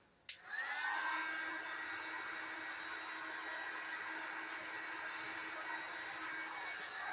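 A heat gun blows steadily as it warms the foam corners of a larp mace, switching on with a sharp click and settling into a constant, fairly loud whirring hiss with no talking.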